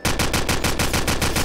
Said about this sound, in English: Stop shooting at the ground.